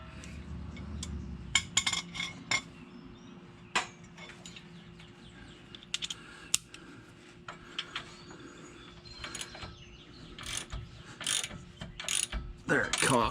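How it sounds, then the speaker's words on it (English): Ratchet clicking while loosening a rear shock bolt on a Ford Freestar or Windstar minivan, with quick repeated bursts of clicks and workshop clatter over steady low hum, close and moderately loud. "Get a ratchet on this now."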